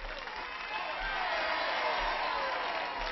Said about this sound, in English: Is that a rebel yell?